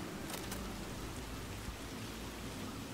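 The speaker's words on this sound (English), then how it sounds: "the rain adds just like crazy ambiance to it too" Steady rain falls across a night city street in Cyberpunk 2077, a dense continuous hiss of drops on surfaces with no talk.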